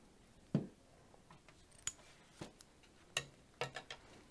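Paper being snipped with scissors while wrapping a craft piece: a handful of separate crisp cuts, mostly single snips with a short cluster near the end, close by and fairly quiet against a soft room background.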